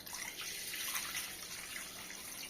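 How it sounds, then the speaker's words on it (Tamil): Water pours steadily into a cooking pot on a gas stove for a potato rava bonda, a continuous splashing stream with no talking. "இதில் கொஞ்சம் தண்ணி ஊற்றிடுவோம்."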